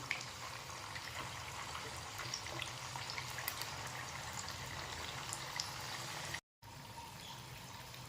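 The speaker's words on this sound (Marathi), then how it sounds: "याप्रमाणे मी आपले बाकीचे सगळे वेदोडे तळून घेते" Rava vadode deep-frying in hot oil, a steady dense bubbling sizzle that holds at an even level throughout, close and continuous, with a brief cut near the end.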